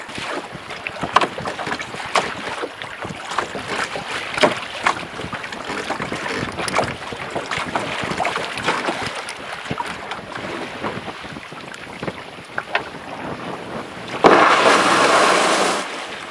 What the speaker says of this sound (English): That wind is really rough